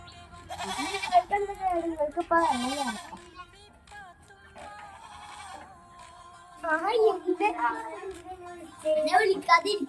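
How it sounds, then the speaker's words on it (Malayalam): Goats bleat loudly several times, close by, with child-like voices and chatter mixed in between the calls. "ആട് തൊള്ള വരുന്ന കാരണം എനിക്കൊന്നും കേൾക്കാത്ത"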